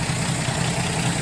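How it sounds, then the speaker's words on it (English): A Plymouth Belvedere six-cylinder engine idles on a snowy cold start, a loud, steady, even low rumble with a slight pulsing rhythm and no voices. "Seems to be idling good, hitting on all six."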